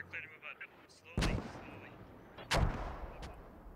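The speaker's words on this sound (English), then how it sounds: "Those mortars hitting way south." Mortar shells exploding in the military shooter game Squad, two heavy booming impacts about a second apart followed by rumbling tails and a sharper crack, mid-distance, with faint voices between.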